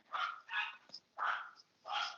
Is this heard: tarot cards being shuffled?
no